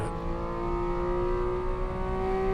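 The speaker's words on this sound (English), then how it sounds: "You can see him really accelerating right there, which is what the 911s are good" A Porsche 911 GT3 RS accelerates hard on a race track, its engine note climbing steadily in a loud, sustained rising whine heard from on board, with no talk over it.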